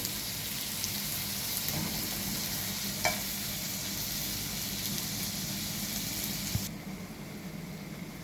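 Vegetables and masala fry in a pan with a steady close sizzle, a few faint spoon taps on the rim, and the hiss dropping slightly near the end.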